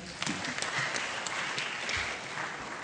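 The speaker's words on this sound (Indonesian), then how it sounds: "Tepuk tangan untuk Pak Jordan." An audience at a Pancasila congress claps for a speaker who has just finished: a sustained, even patter of many hands, heard from some distance and fairly quiet.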